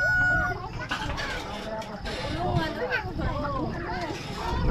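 Chickens clucking around a coop at a typhoon-damaged house, several close, irregular clucks and calls, with someone talking over them throughout.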